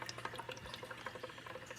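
Water drains down a white pipe from an automatic surface-skimming turtle tank filter, a faint, steady trickle with small irregular drips and splashes throughout, no voices.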